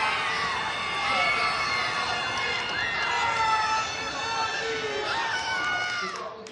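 A live crowd at an esports football tournament cheers and shouts for a goal, a dense sustained roar of many voices with rising whoops throughout.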